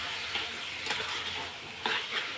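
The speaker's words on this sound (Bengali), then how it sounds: "আর এটা এখন আমি ঘুগনির আলুগুলো একটু কষিয়ে নেবো" Potatoes for Bengali ghugni being sautéed in a pan, a soft continuous frying hiss broken by a few louder stirring scrapes, fairly quiet and close.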